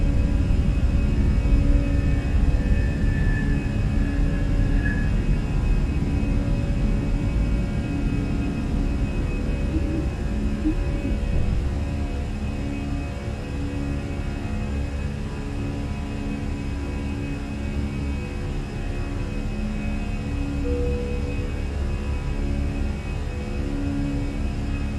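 Cockpit view of an Airbus A320 (Fenix) jet climbing after takeoff in Microsoft Flight Simulator, a steady loud engine roar and rumble that eases slightly midway, with no speech.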